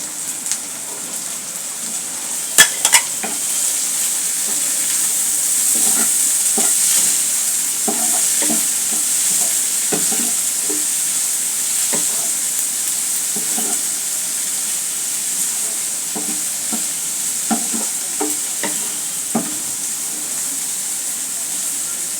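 Taro leaves fry in oil in a pan, with chopped coriander mixed in, giving a long, steady sizzling hiss. Scattered scrapes and clicks from stirring break through at irregular intervals, close and fairly loud.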